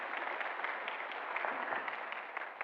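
A church congregation applauds a newly registered member during a Sunday service, a steady, dense wash of clapping that holds evenly throughout without talk.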